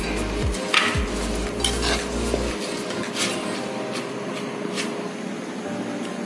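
Tapioca puttu being mixed with jaggery in a bowl gives close scraping and soft clinking of a spoon against the dish, steady and continuous with a low hum underneath.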